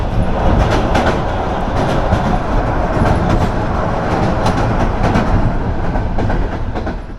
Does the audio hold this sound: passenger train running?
yes